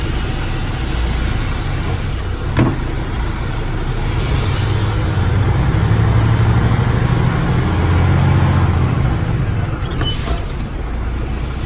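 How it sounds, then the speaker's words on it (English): A truck in low gear rolls at about five miles an hour during a service brake test, its engine a steady, loud, close rumble with brief airy hisses now and then. "I'm going to get my speed up to 5 miles an hour. Test my service brake."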